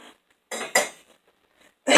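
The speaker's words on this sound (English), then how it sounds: "we have a lot of silverware" Silverware is put away in a kitchen drawer with a few sharp, bright metallic clinks and clatters, separated by short silences, close and fairly loud.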